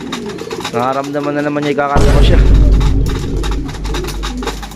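Banded racing pigeons coo softly near the microphone during a feeding of corn, with a few low murmuring calls under a person's talking and a burst of rustling noise midway.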